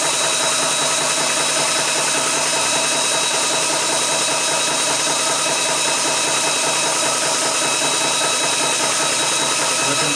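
A Vevor PCP 4500 PSI high-pressure air compressor runs steadily and loudly, close by, with a dense, even mechanical drone and rapid pumping chatter that holds without pause.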